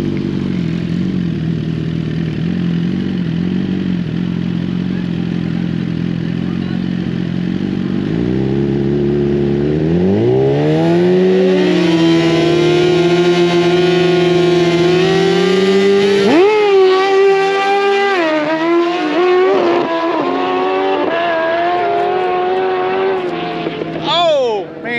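Motorcycles at a drag race, a Suzuki Gixxer against a Honda CBR, rev from a steady idle into rising, wailing engine pitches as they launch and pull hard, loud and close, with voices talking over the engines.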